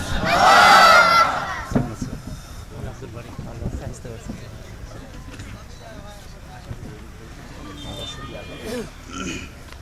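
A large crowd at a religious gathering roars a loud unified takbir chant in response to a call, the shout swelling then fading into murmuring voices and scattered noise.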